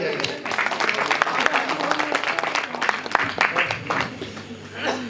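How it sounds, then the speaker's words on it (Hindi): Listeners at a Hindi poetry recital break into applause, a dense patter of clapping that swells and fades over a few seconds. A voice can be heard faintly beneath it. "जोरदार तालियां बजाइए"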